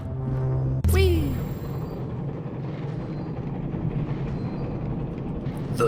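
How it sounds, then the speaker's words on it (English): A train in the video game Abiotic Factor starts with a sharp clang and a falling tone, then rolls on with a steady low rumble. "The train."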